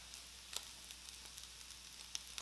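Chorizo mixed with potato, onion and garlic sizzles quietly in a frying pan, a soft steady hiss with occasional crackles and small pops, faint and alone.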